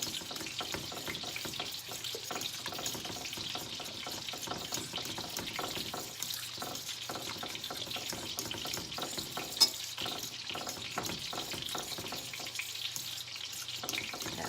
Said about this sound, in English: the Alfredo sauce that I have in the can. I'm just gonna mix that all together.